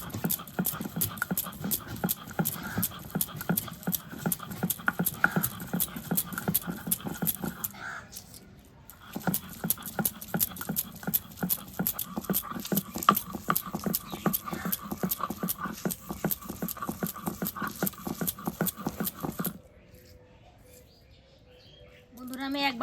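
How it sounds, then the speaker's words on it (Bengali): Onions are ground on a stone slab (bata) in a village kitchen, making fast, steady scraping and knocking strokes up close. The strokes pause briefly midway, carry on, then stop near the end. "পেঁয়াজটা ভালো করে বাইটা নিই।"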